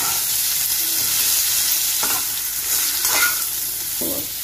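Jaggery gets stirred into sweet mango pickle in a pan, a loud, close, continuous sizzle with a few scraping strokes of the spoon and no voice.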